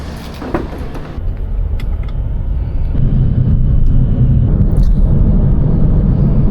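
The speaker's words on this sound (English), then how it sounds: "It's a pretty busy road" Busy road traffic in Da Nang makes a loud continuous low rumble of passing engines, close and dense throughout with no speech, and the roar swelling after a few seconds.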